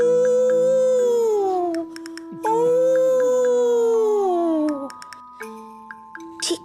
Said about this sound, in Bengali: দূর থেকে কুকুর কাঁদছে।